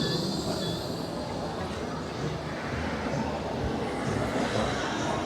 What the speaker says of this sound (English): As the tram goes past.